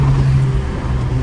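A 2018 Mercedes GLA 45 AMG SUV engine pulls steadily under acceleration, a loud, continuous low drone heard from inside the cabin with no talking.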